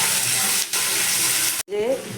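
Onions and tomatoes fry in a pan with a loud, close, continuous sizzle, briefly broken by stirring and a short clatter near the end.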